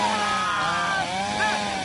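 A chainsaw sound effect played in a horror TV scene, a loud buzzing motor whine that rises and falls in pitch and runs continuously for about two seconds with no speech over it.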